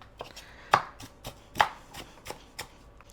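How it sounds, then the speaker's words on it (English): Raw onion chopped finely with a knife on a board, about eight crisp separate knocks in an uneven rhythm, close and clear with no talk. "I am going to chop them up kind of fine"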